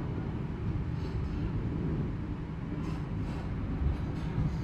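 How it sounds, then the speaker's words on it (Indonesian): Brantas economy passenger train running between Pekalongan and Semarang in Indonesia at night, heard from inside: a steady, loud low rumble and rattle of the carriage with no talk. "kereta api berantas diberangkatkan kembali dari stasiun Pekalongan"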